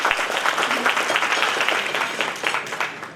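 An audience at a community holiday gathering applauds, a dense, steady wash of many hands clapping fairly close for a few seconds.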